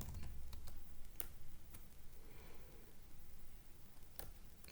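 Computer keyboard keys clicked in short, uneven bursts while a mkdir command is typed on an Ubuntu terminal; the taps sound close, light, and scattered over a quiet room hiss.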